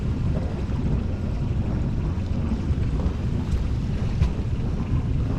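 Blustery wind roars steadily against a boat moving through narrow Dutch canals, a dense, unbroken rush of buffeting noise without speech.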